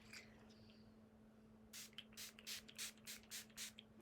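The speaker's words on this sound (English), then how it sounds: "I'm going to go ahead and spritz my face" A quick series of soft, airy spritzes of a face mist spray, six or seven short bursts in a steady rhythm, close and fairly quiet against near silence.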